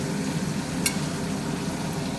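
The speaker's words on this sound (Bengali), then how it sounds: "শুকনো লঙ্কা ভেজে নিচ্ছি, আর আলু পেঁয়াজ ভেজে নিচ্ছি" A steady, dense sizzle of potatoes, onions and dried chillies frying in hot oil fills the whole clip, with a brief clink of a utensil partway through.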